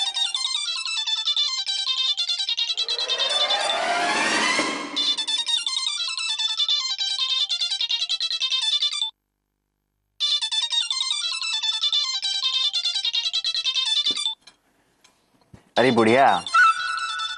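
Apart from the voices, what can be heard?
mobile phone ringing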